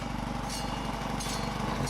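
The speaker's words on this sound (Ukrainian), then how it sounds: "Ось теж для сої дуже міні комбайн такий, дуже маленький, прибирає сою." Very small mini combine harvester, an attachment for a walk-behind tractor, cutting and laying down soybeans in a field: a steady, moderately loud small-engine drone with a regular chugging pulse throughout.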